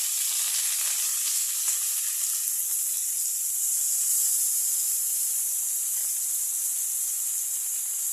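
Fenugreek and spinach greens fry lightly in a pan, producing a constant bright hissing sizzle that stays even and close for the whole stretch, with faint stirring and no voices.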